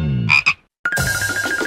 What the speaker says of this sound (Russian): О нет, только не лягушка.